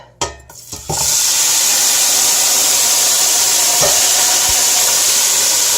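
Mirepoix vegetables hit hot oil with a sharp clatter, then burst into a loud, steady sizzle with a bright hiss that holds for several seconds, broken only by a faint stir or two.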